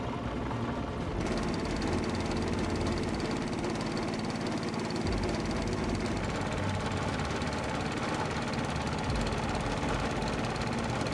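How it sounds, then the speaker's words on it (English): A fishing boat's engine runs on the Mekong river, a steady chugging drone with knocking vibration that picks up after a second and continues loud and close throughout, with no talking. "As he starts his engine and heads out"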